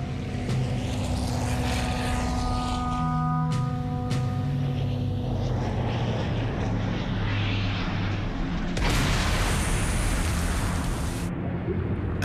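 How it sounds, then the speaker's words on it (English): A propeller plane takes off with a loud, steady engine drone carrying sustained humming tones, and a broad roaring surge swells near the end. "Then finally the plane took off."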